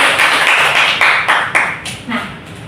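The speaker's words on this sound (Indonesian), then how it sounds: "tepuk tangan buat Neng Silvi." A class claps for a student, Neng Silvi, in a short, loose burst of applause that fades within about two seconds. The clapping is close and fairly loud.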